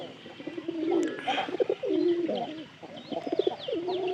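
Several kept pigeons coo in repeated throaty bursts at close range, overlapping one another steadily with no talking.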